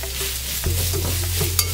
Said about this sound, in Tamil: இந்த மாதிரி கட் பண்ண வெங்காயத்தை இந்த ஸ்டேஜில் சேர்த்துருங்க